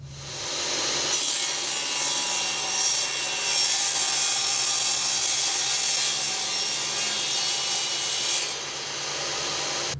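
A hand saw cuts through a wooden board in steady continuous strokes, close and loud, holding an even rasping drone for most of the ten seconds with no talking.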